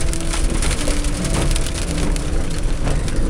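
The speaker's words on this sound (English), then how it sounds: "It's getting rained and hailed on" Rain and hail drum on a car driving through the Grampians National Park, a loud dense patter with sharp ticks and cracks throughout and no talking.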